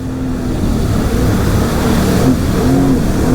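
Sea-Doo Spark Trixx jet ski engine revving under varying throttle on open water, a loud continuous drone that rises and falls in pitch, close and alone.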